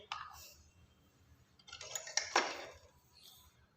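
Eggs are mixed with black pepper and salt in a bowl for a Spanish omelette. The sound is quiet and close: soft clinks and a short scraping, whisking burst of a utensil against the bowl.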